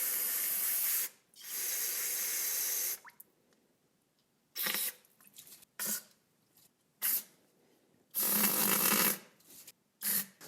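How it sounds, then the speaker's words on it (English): Compressed air from an off-camera compressor hisses through the carburetor holes of an MTD push mower in loud bursts: two long blasts, then several shorter puffs and a final sustained blast. "I'm just gonna hit it with a little compressed air just to make sure I get all that carb junk out of there"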